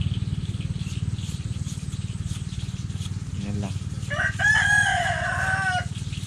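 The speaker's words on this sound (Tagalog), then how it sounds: "Masangayin yung manok sa atin ah." Rooster crowing on a Filipino farm, one drawn-out call rising over a steady low engine-like rumble, preceded by a brief cluck, fairly close and loud.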